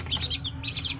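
Newly hatched chicks peeping, a close cluster of high, rapid chirps overlapping in quick bursts over a faint low background hum.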